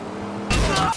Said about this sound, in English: the car's engine sound is subtle, almost distant, but move the camera toward the front bumper and suddenly the sound gets louder